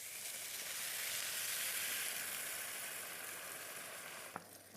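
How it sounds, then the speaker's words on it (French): Broth hits a hot pan for a chowder that already holds vegetables and flour, and a steady, faint hissing sizzle runs throughout, close and unbroken, with a single small knock near the end. "Et puis, je rajoute le bouillon."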